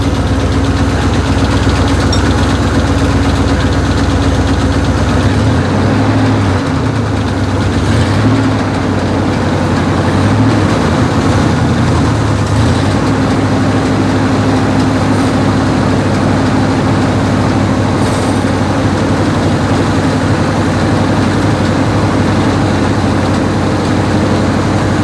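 A Cadillac hearse's 472 V8 engine idles at operating temperature, a steady, loud, low rumble with a deep throb and a faint knock running unbroken throughout, with no voices over it.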